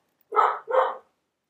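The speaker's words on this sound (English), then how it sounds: "She's one of the few dogs that I've ever had that actually has different barks for different things." A collie-type pet dog gives two loud barks in quick succession, close and clear against silence.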